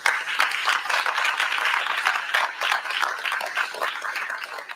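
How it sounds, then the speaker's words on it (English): Audience applause at a mayor's weekly press briefing, a steady round of clapping from a crowd, fairly close and sustained for several seconds without speech. "who I want to start by giving a giant round of applause for."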